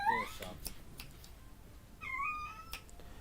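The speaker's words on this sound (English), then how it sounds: "That's my cat." A pet cat gives two clear, drawn-out meows, one at the start and another about two seconds later, fairly close against a quiet room with a few soft clicks between.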